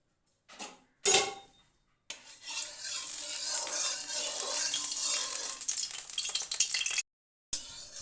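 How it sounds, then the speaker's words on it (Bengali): Mustard oil heating in a wok for a green pea snack. A few sharp clatters come first, then a loud, steady sizzle and crackle that lasts about five seconds before it cuts off. "পরিমাণ মতন সর্ষের তেল দিয়ে দিলাম"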